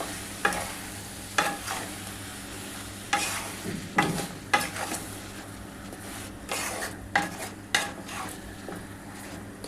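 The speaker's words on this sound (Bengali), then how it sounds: "এবার খুব ভালো করে একটুখানি নাড়াচাড়া করে নিতে হবে।" Chicken pieces marinated with turmeric, salt, chili powder and vinegar are stirred while frying in a pan, with a close, steady sizzle broken by regular scraping spatula strokes and no talking.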